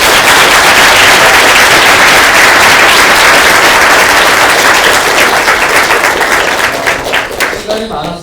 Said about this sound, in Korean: 교수님 큰 박수로 감사드립니다